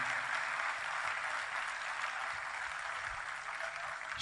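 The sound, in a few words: audience applause for the brass and guitar team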